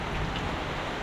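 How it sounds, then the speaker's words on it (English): Rain falls in the countryside as a steady, uniform wash of drops, close and continuous with no voices. "It's raining, guys."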